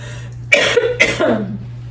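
Two harsh coughs in quick succession, close and fairly loud, over a faint steady electrical hum.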